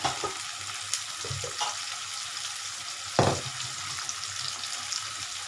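Bitter gourd added to a pan of sautéed onion and tomato sizzles and fries steadily, with a few soft stirring scrapes and one louder clatter partway through; no one talks.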